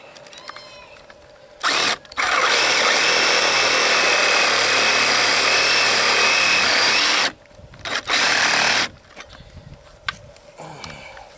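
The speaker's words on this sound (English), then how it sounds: "Now the Sawzall makes a really neat cut." A Sawzall reciprocating saw cuts loudly nearby: a short burst, then a sustained harsh buzzing cut of about five seconds, followed by two more quick bursts separated by quiet handling.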